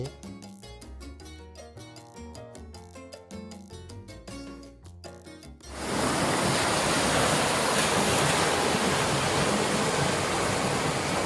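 Music plays, then cuts to a loud, constant rush of wind and water from a boat moving fast across open sea between Koh Rok Yai and Koh Rok Noi, Thailand.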